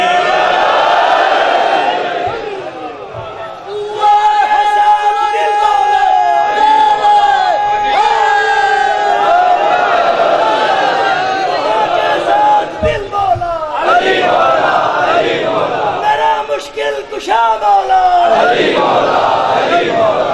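A large crowd at a Muharram religious gathering chanting the slogan Naara-e-Haidari, loud massed voices responding in repeated bursts.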